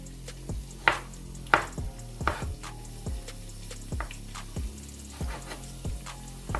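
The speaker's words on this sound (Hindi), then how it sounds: "जब तक भिंडी हमारी फ्राई होती है तब तक हम ये तमाम चीज़ें काट लेते हैं" A knife chops ingredients on a cutting board in a home kitchen while okra fries, with sharp irregular thuds, some louder strikes early on, over a soft background sizzle.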